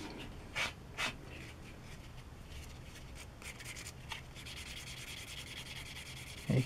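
Soft, close rubbing as paint is worn away from a small part on a Tamiya 1/12 Yamaha YZR-M1 motorcycle model kit, with faint scratchy strokes and a few brief sharper scrapes, no talking.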